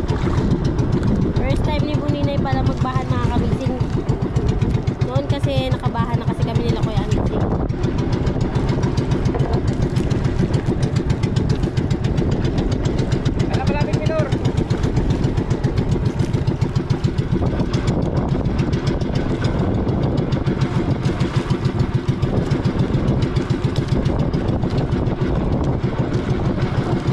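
An engine idles steadily at close range with a constant low chug, while people talk intermittently over it.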